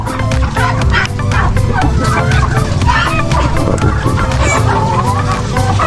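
A loud yard of poultry, including brooding turkeys and chickens, calls in overlapping squawks and clucks with sharp repeated cries close by.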